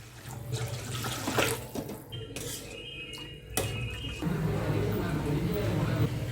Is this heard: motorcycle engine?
no